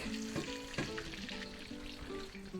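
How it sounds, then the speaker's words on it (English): Pork belly for lechon kawali deep-frying in hot oil, a dense steady sizzle with crackling bursts as the skin bubbles and crisps, loud and close with occasional clinks, no voices. "we are getting that crispy color, the golden color, and that popcorn texture bubble coming out of the skin"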